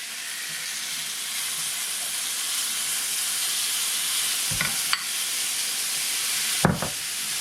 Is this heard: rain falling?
no